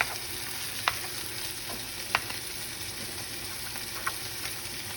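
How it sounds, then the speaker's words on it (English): Chopped meat fries with a constant soft sizzle in a pan, broken by a few sharp clicks of a utensil knocking the pan as it is stirred. Heard close up with no talking. "Can you go ahead and stir that for me?"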